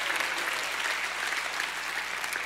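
Church congregation applauding at an evening revival service: dense, steady clapping from many hands fills the space, loud and sustained, with no speech over it.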